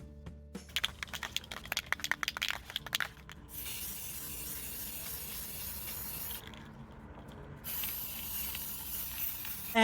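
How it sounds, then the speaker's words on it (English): Short bursts of aerosol finish spraying onto a photo transfer in quick pulses outdoors, then a longer steady hiss of spray continuing close by, with faint background noise. "now let's go outside the studio to spray the transfer"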